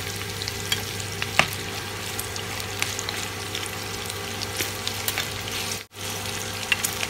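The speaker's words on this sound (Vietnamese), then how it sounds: "Mọi người chiên xém vàng hai mặt là được." Pork frying in a pan until golden on both sides, for lemongrass-chili stir-fried pork: a steady, loud crackling sizzle with scattered pops and a brief stir, no talking.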